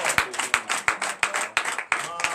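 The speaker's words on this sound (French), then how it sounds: "je vous demande d'applaudir encore" Congregation at a morning prayer service in Benin applauding, steady rhythmic claps at a quick even pace, with a few louder hand strikes standing out close by.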